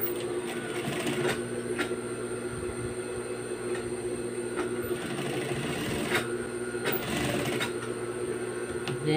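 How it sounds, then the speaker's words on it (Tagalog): A sewing machine stitches French terry fabric for a hoodie jacket, giving a continuous mechanical hum with faint periodic clicks and taps throughout, steady and fairly quiet. "Tahiin na natin."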